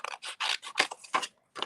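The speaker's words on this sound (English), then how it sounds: "I'm just going to cut around because" Scissors snip around a stamped lemon cut from paper, several short crisp cuts in an uneven rhythm, quiet and close with nothing else heard.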